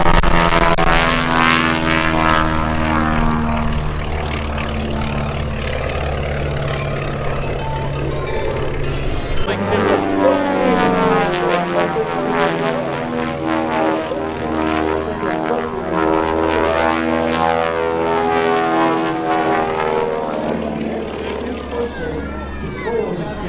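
A Twin Beech airplane flies an aerobatic display at an airshow, its twin propeller engines droning loudly and steadily with shifting pitch as it passes, while an announcer talks over it throughout.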